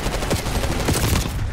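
Rapid automatic gunfire in the video game Call of Duty Black Ops 6 crackles in a dense, continuous burst of overlapping shots at close range.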